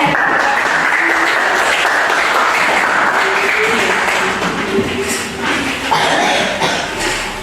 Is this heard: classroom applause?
yes